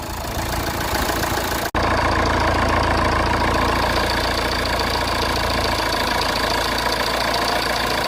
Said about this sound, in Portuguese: É aquele barulho do motor a diesel